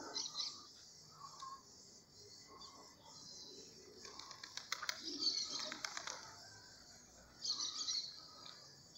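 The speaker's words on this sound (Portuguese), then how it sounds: "Tem poucos pombos voando aqui em casa" Pigeons flying around a home loft, with faint bird calls and bursts of wing flapping and cooing against a steady insect-like background hum. The sounds are soft and somewhat distant.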